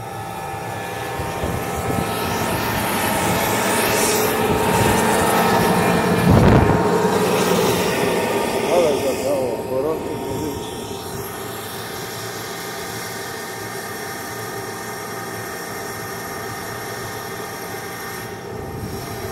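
American aircraft engines run at a NATO training event, a loud continuous roar and whine that swells slightly midway and then holds steady, with no voices.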